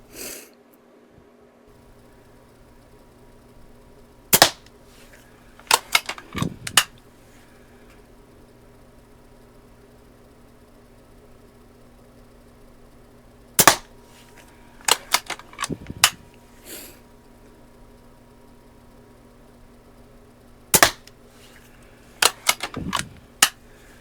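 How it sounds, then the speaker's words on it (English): A Daisy 299 BB gun fires at targets in three separate groups of about five sharp, close snaps each, with quiet gaps between the groups. "Now we shoot the bottom right hand target."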